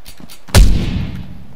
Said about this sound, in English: Double barrel shotgun for the win!